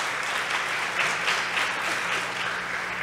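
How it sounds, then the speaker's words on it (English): An audience at a Women @ Wentworth 2018 event gives a sustained round of applause, a dense, steady wash of clapping hands that stays loud and even throughout. "let's give everybody a big round of applause"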